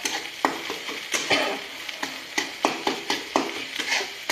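Egg bhurji stir-fried in a pan at home, with sharp spatula scrapes and clinks every half second or so over a steady sizzle, close and fairly loud with no talking.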